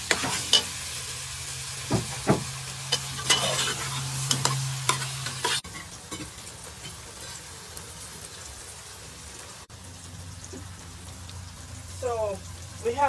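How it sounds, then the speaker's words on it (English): Roasted, peeled baigan (eggplant) stirred in a pot, with a dense crackling sizzle and repeated spoon knocks and scrapes against the pot in the first half, then softer frying continuing quietly, with a short spoken word. "Stir."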